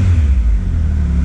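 A Triumph Tiger 1200 XCX three-cylinder motorcycle engine idles and revs gently up close, with a deep, steady, loud rumble throughout.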